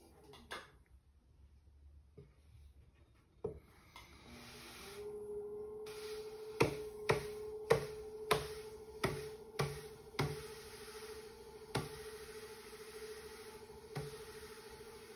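A two-pound clay bowl is trimmed on a spinning pottery wheel: a faint steady hum with a run of sharp, regular taps and clicks of the trimming tool against the clay, quiet and close.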